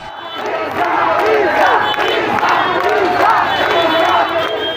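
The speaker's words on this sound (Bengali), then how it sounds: "স্লোগানে স্লোগানে উত্তল হয় গোটা এলাকা" A crowd at an election procession and roadside rally in Fulbaria, Bangladesh, shouts slogans in loud rhythmic unison, voices rising and falling in repeated calls that fill the whole stretch closely and continuously.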